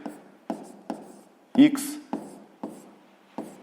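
Pen or pencil writing numbers on paper during a sixth-grade math exercise: a series of short, separate scratchy strokes in an irregular rhythm, close and fairly quiet, with a brief louder bump midway.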